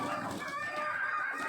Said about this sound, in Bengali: এই হচ্ছে কিছুটা মুরগি, মানে কিছুটা বলতে কয়েকটা মুরগি